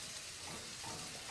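Spice paste frying and being stirred in a pot for a Southern meal, giving a steady, close, soft sizzle and hiss with faint scraping throughout and no talking.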